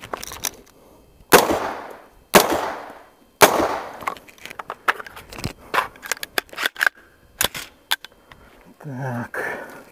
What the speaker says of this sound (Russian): Итак, стреляю вот под вот этим углом.